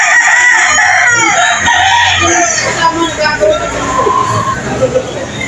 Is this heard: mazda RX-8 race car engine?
no